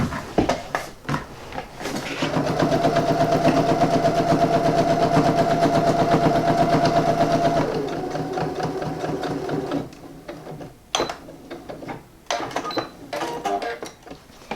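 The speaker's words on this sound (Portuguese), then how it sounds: "Então, eu já posso começar a fazer a minha costura." A sewing machine stitches fabric for a double pencil case, a close, rapid mechanical whirring run that keeps up for several seconds, then stops and gives way to short clicks and fabric handling.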